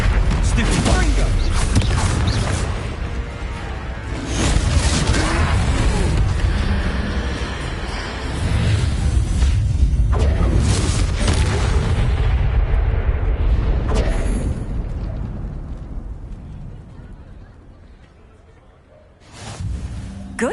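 Confringo blasting spells in Hogwarts Legacy set off repeated heavy booming blasts and rumbling over a troll fight, with voices calling out spells throughout and the din fading near the end.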